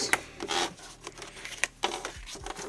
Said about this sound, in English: fold along the score lines